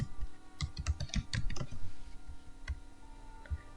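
Quiet, close keystrokes on a computer keyboard as a date is typed, arriving as quick irregular bursts of clicks early on, then a few sparse taps after a short lull.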